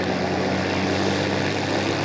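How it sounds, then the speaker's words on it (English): Loud, steady droning of a propeller airplane engine, close by and constant without letting up. "There is your plane, Jason."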